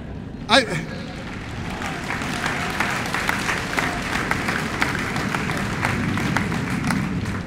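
An audience applauds at a US Air Force basic military training graduation, dense sustained clapping from a large crowd that fills the whole stretch, with a sharp cheer or whistle near the start.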